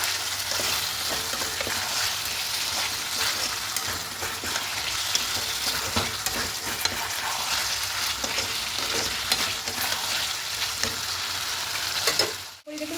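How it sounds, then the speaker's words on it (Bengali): Fried potatoes for aloo dum sizzle steadily in oil while being stirred and sautéed, a continuous close hiss with intermittent scraping of the spoon against the pan, ending with a sharp clatter; no talking. "ঠিক এই সময়তে ভেজে রাখা আলুগুলোকে দিয়ে দেবে এবার দিয়ে খুব ভালো করে একটু কষিয়ে নেবো"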